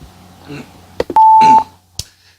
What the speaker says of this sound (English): let's go ahead and start that timer